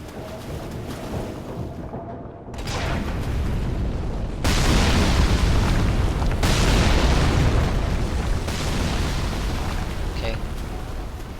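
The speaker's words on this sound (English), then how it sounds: "3 ballista shots." Ballista shots in the Catacombs area of Dark Souls 3 land as heavy booming impacts, with a couple of loud bursts swelling into a sustained rumbling roar.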